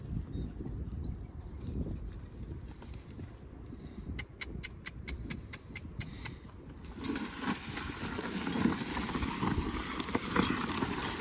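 Plow horses' hooves clip-clop in a steady walking rhythm across a field, fairly close, against rustling background noise.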